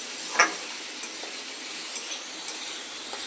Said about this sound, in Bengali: এবার পেঁয়াজটাকে একটু ভাজা করে নেব।